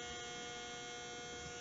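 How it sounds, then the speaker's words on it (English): A household clothes dryer runs through sweatshirts, a steady low hum and tumbling rumble that holds constant throughout with no speech. "That was a dryer there."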